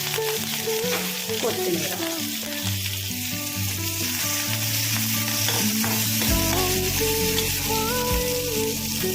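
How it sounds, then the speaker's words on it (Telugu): Crushed pepper, green chilli, curry leaves and coriander sizzle in hot oil, a loud continuous frying crackle with stirring, while a voice speaks briefly over it. "కొద్దిసేపు వేయించామండి."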